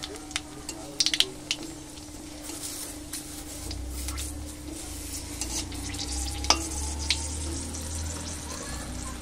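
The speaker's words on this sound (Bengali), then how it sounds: "এবার ওই মাছ ভাজা তেলেই কালো জিরে ফোড়ন দিলাম, শুকনো লঙ্কা ফোড়ন দিলাম।" Nigella seeds and dried red chillies hit hot oil left from frying fish, giving a crackling sizzle with brisk clicks and spoon scrapes, a low rumbling hum and a faint voice underneath.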